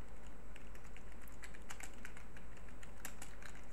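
Typing on a computer keyboard while entering a blog post title, a quick irregular patter of soft key clicks at close range with a low hum beneath.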